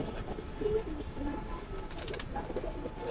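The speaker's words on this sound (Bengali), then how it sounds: "এই কবুতর একটু দেখান" Pigeons at a home loft cooing softly in low, repeated throaty calls, fairly faint against background noise, with a bit of distant human murmur.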